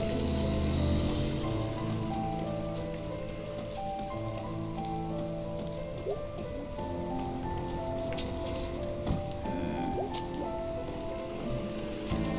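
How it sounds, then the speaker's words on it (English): Steady rain falls in the video game Night in the Woods, a continuous, even patter that holds for the whole stretch with no voices over it. "It's just rain."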